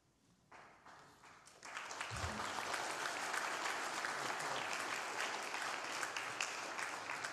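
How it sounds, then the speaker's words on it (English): Audience applause for author Stephen Shaw after his talk on German military rings, starting as a few claps and swelling into steady, dense clapping that fills the room and holds to the end. "One more round of applause for Mr. Shaw."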